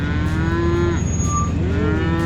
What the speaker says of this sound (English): I see a cow sitting over there on the other side